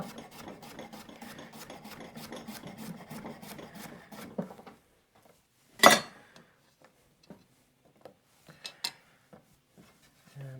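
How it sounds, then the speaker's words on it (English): A knife slices cucumber for a salad in a rapid, even run of close chopping strokes on a board. A few scattered, softer taps and knocks follow a pause, with no voices. "And next up, some cucumber. So I'm just going to do some slices for my salad."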